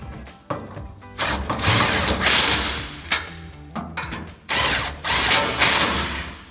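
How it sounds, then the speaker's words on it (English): An impact gun fitted with a 19 mm socket drives locking nuts tight while a rear bumper is installed on a Jeep Gladiator JT, giving several loud, close bursts of whirring and rattling hammering separated by short pauses. "we can take a 19 millimeter socket on an impact gun to tighten these down."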